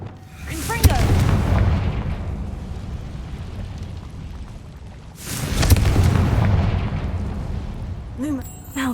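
Confringo fire-curse blasts cast in the Hogwarts Legacy video game: two loud, booming bursts about five seconds apart, each trailing off into a rolling rumble.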